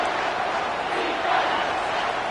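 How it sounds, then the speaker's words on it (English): Football stadium crowd at a college game between Oklahoma State and Michigan, roaring steadily in support of the defense on third down in the red zone; a dense, continuous wash of distant voices with no break. "The crowd getting behind this defense as they try to get a stop in the red zone"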